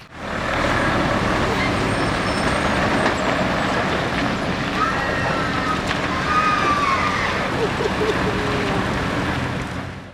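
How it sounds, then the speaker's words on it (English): Trucks drive into a slaughterhouse in Wittlich, a steady rumbling roar of heavy engines and road noise that holds throughout, with faint high squeals and cries layered on top. "Wenn du siehst, wie diese Trucks hier reinfahren"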